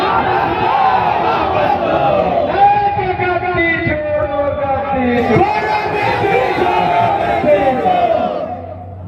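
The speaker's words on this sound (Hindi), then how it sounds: "ये जो भीड़ है" A large crowd at a political rally in Bihar shouts and cheers loudly together, a dense roar of voices with rising chant-like swells that fades slightly at the end.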